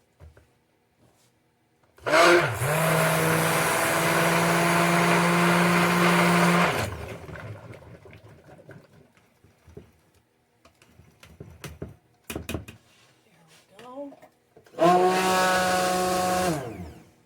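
A stick blender whirs steadily for several seconds mixing soap, stops, then gives another short burst after some light clattering and handling sounds.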